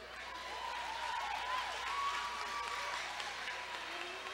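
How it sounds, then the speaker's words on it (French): Steady, sustained applause from an audience at a pageant finale, filling the whole moment evenly with a faint tonal hum running underneath. "je vous demande de l'applaudir"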